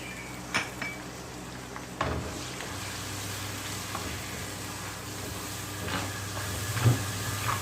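A masala of turmeric, red chilli, coriander powder and salt fries in a pan with a little water, a steady soft sizzle and hiss with occasional stirring clinks and scrapes.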